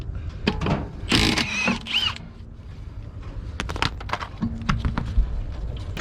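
A ratchet wrench works on the lug nuts of a wheel on a junkyard car, giving rapid clicking runs and metallic clanks in irregular bursts close up, with brief handling noises in between.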